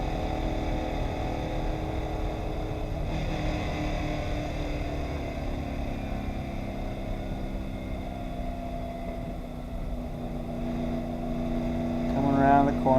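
A car being driven hard through corners on a race track, a steady engine drone rising and falling in pitch as it accelerates, fairly loud and continuous, swelling near the end, with a voice talking over it.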